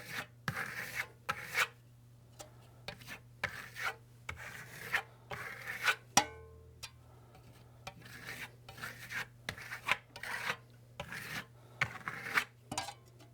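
Rhythmic rasping strokes scrape and rub across the plaster surface of a fresco, close and steady, each pass short and gritty with brief pauses between, over a faint low hum.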